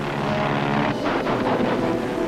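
Propeller-driven World War II warplanes drone overhead, a dense, steady engine roar filling the whole clip with no talk over it.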